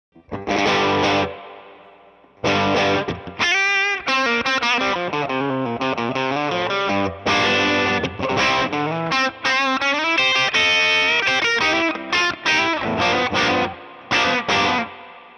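Overdriven electric guitar, a Relish Trinity, plays distorted chords and riffs in bursts, with short pauses between phrases, loud and close.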